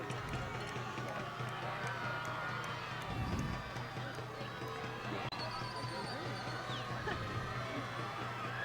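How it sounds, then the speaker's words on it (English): A spirited crowd in the light blue cheers from the far side of a stadium at a PVL championship high school football game between Placer Hillmen and Center Cougars, a steady distant roar with thumping footsteps and talk over it. "we do hear the spirited crowd in the light blue on the far side"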